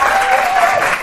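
Comedy show audience applauding a stand-up performer on stage, a short burst of dense, loud clapping that holds steady and tapers slightly at the end.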